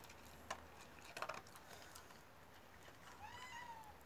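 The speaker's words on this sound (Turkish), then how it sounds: "Aa, kedi de geldi." A cat meowing faintly in a Turkish home setting, one drawn-out meow near the end after a few soft clicks and rustles, quiet and somewhat distant.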